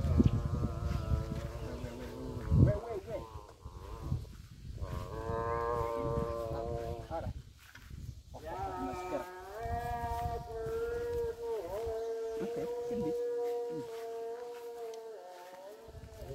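Cattle waiting to be milked low and moo in several long, drawn-out calls with rising and falling pitch, close by and fairly loud, over a steady background hum.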